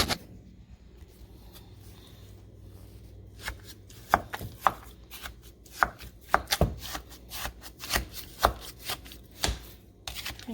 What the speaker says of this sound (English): I'm going to use the spoon to break it up.